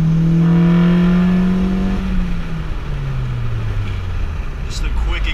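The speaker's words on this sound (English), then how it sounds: "So this is what I meant by it being a loud intake." A Honda Civic Si with a PRL cold air intake accelerates hard in third gear, a loud rising engine tone that then drops as it shifts and fades into road noise.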